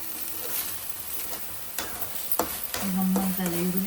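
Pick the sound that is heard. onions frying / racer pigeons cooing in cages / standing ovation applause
onions frying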